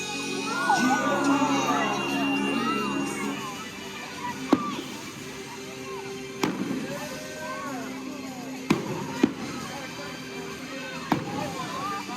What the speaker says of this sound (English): So as the drone and fireworks show plays out